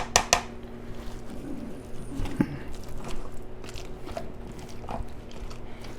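Butter-softened potatoes being mashed by hand in a pot, with a few sharp knocks at the start and soft, irregular squelching thumps continuing at a moderate level throughout, no voices.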